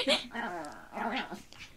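A small dog growls in short, strained, whiny bursts at close range, rising and falling in pitch with an odd, almost alien quality.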